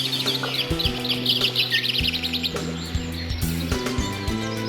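Loud birds in the video game Alone in the Dark chirp and tweet in quick bursts over a low, sustained musical drone with shifting tones.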